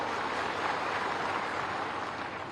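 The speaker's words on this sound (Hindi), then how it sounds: "अपने आप के लिए ताली बजाओ" A crowd at an outdoor political rally in Amarwara applauds in a dense, continuous wash of clapping that holds steady for a couple of seconds without a break.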